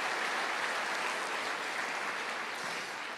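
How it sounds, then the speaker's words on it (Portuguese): Church congregation applauding during a sermon, a steady wash of many hands clapping at moderate level throughout, fading slightly at the end, with no voices over it. "pode aplaudir o Senhor"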